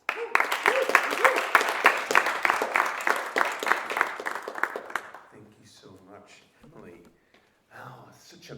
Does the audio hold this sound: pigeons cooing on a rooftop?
no